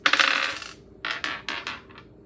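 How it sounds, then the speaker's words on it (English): Dice are set down on a table in a few small hard clatters. One longer rattle comes first, then several brief clicks as they settle. "I'm putting the dice on this"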